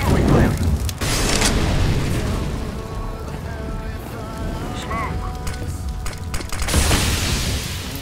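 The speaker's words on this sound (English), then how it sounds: "Deploying flashbang." A video-game flashbang grenade bursts in a loud, harsh blast at the start, followed by a thin ringing tone and a second broadband burst near the end.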